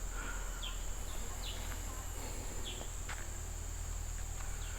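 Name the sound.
forest insects and birds at a campsite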